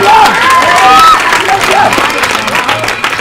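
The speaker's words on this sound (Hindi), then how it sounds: "जोरदार तालियां।" Loud applause from a large audience at an anti-addiction stage play in Gaya, Bihar, fills the whole clip, with cheering and a few shouted voices rising over the steady clapping.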